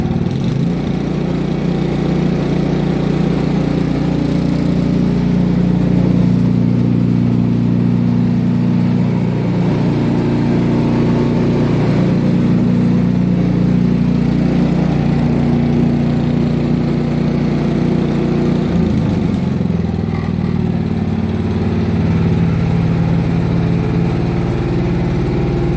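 An Ariens Deluxe 28 snow blower engine runs steadily throughout, a loud continuous mid-pitched drone with a slight shift in tone near twenty seconds and no voices.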